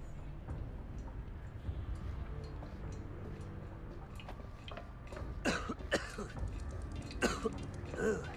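A character in the video game The Casting of Frank Stone coughs a few times in short, faint bursts over quiet ambient game sound.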